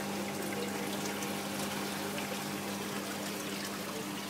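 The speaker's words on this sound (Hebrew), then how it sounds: "נפילת מים" Water falls into the sump of a newly set up 400-litre reef aquarium system, a steady close splashing and trickling wash with a faint hum underneath, continuous throughout.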